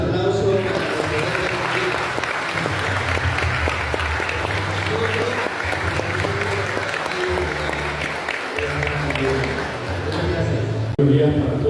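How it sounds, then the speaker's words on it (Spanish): Audience gathered for a Spanish-language event applauds continuously, a steady wash of clapping under a loud voice that carries throughout. "Fuerte los aplausos"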